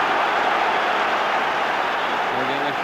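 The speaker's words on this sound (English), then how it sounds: "Again a huge roar goes up from the crowd." A football stadium crowd at a Rangers versus CSKA Moscow Champions League match in 1992 roars in a loud, sustained wash of noise, with a commentator's voice rising over it near the end.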